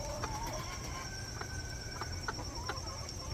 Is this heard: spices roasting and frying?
no